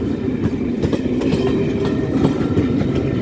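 Class 67 diesel locomotive 67007 hauling a railtour of mostly BR Mark 2 coaches through Malton, heard close and loud as a continuous rumble with rhythmic clickety-clack of wheels over rail joints.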